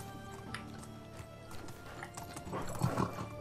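Horse hooves clopping in the medieval survival game Medieval Dynasty, a steady rhythmic clip-clop of a ridden horse at close range over a background music bed, growing a little louder toward the end.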